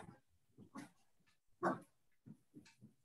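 A dog lets out a few short, faint barks and whimpers in the background, scattered yips spaced irregularly across a few seconds.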